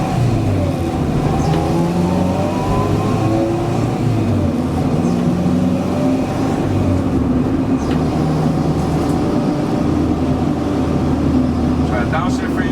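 Car engine downshifting without the clutch, a steady loud drone whose pitch sweeps up and down as revs change through the gears, running continuously with a voice talking over it.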